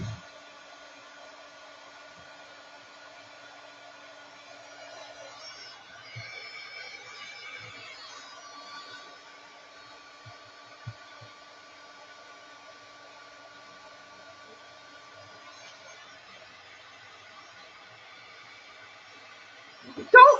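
Plumbing work on a sink nearby gives off a steady, droning mechanical whine with layered tones that runs unbroken for about twenty seconds, with faint knocks here and there and a louder bump at the very end.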